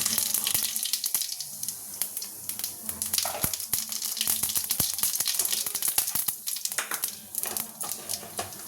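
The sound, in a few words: dried chillies and cumin tempering in hot oil in a kadai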